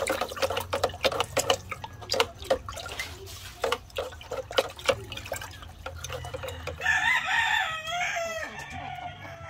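Chickens cluck and scratch nearby amid a busy clatter of tapping sounds, with a rooster-like crow rising near the end.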